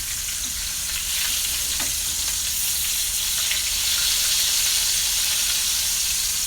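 Food sizzles and fries steadily in a pan, a continuous close crackling hiss, with a brief scrape or clatter as it is flipped partway through.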